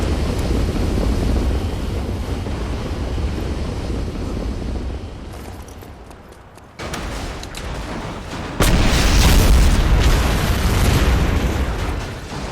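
V2 rocket blown up in the World War II video game The Saboteur, with a sustained heavy roaring rumble, a brief dip, then a renewed loud blast-like roar that holds to the end, no talk.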